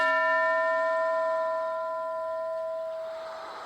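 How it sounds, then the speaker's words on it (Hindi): A classroom bell sounds one sustained, resonant ring, its bright harmonic tone holding steady for a few seconds before gradually fading. "अब जब घंटी बजेगी"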